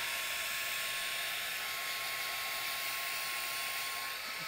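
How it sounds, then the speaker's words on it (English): A heat gun blows hot air over acrylic paint on a Halloween tumbler, a steady, loud broadband hiss with a faint whine running unbroken throughout. "let's hit these with the heat gun"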